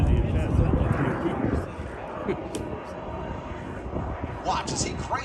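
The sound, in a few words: Lockheed T-33 jet aircraft flying at an air show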